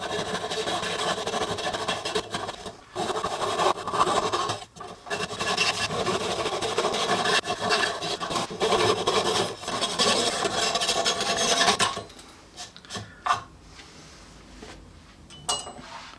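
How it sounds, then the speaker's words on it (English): Wooden splines on a glass block accent lamp are sanded with a loud, continuous abrasive rubbing and rasping that runs for about twelve seconds, then gives way to quieter scattered scrapes and handling knocks. "we'll trim them and give the entire thing another sanding"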